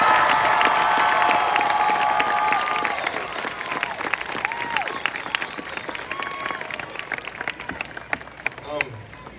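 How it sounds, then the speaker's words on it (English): Audience applauding and cheering for the graduating class of 2022 at a graduation ceremony, dense continuous clapping with shouts that slowly thins out toward the end. "Now you guys can clap for the graduating class of 2022."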